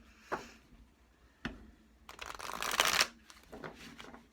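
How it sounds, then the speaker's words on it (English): Oracle cards being shuffled close by: two soft isolated taps, then a dense riffling flutter of about a second, followed by a few lighter card slaps, with no talking. "Shuffle these up really well"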